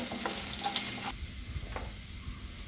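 Curry leaves with chopped shallots hit hot oil in a pan, giving a loud, steady sizzle and crackle that drops sharply partway through, leaving a softer frying hiss with brief spits.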